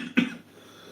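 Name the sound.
cough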